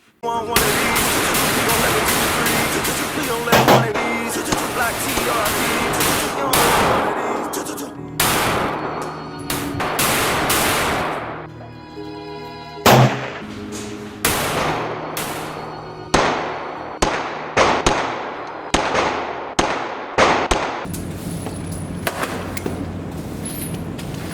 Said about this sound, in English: today on the channel I'll be doing my first shots and review of the Bond Arms Roughneck